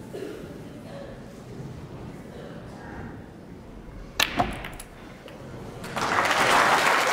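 A couple of sharp knocks ring out at a snooker match, UK Championship 2011 quarter-final, then the crowd breaks into steady applause that carries on to the end.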